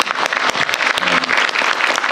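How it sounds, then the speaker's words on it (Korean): A crowd at a Korean government work-report meeting applauds a staff team leader for handling public complaints well, a dense, steady burst of clapping that fills the whole stretch with a voice briefly heard beneath it. "박수 쳐주세요"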